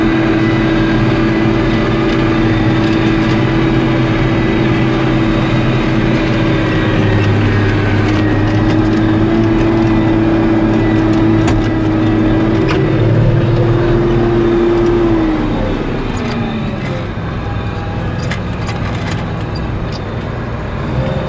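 A tractor pulling a chisel plow through a field in four-wheel drive gives a loud, steady diesel engine drone with a sustained hum that shifts lower near the end, heard from the cab with no speech.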